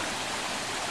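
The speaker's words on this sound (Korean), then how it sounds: "물소리가 나고 여기 다리가, 아, 여기 출렁 다리가 있네." A mountain stream flows beside a stone hiking trail on Jirisan near a suspension bridge, giving a steady, dense rush of water that fills the short moment.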